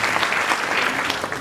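Steady, dense audience applause for a visiting university guest at a healthcare AI debate, loud and continuous with no gaps throughout.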